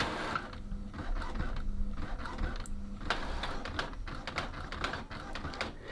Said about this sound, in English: we're going to hit this button here to print, and this is where it's going to come out with that nozzle check